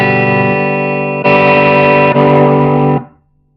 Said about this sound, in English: What it's actually doing is it's changing the amps as you go along through the presets